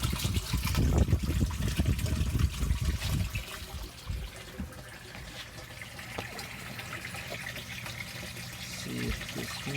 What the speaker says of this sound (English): Siphon should be about to initiate.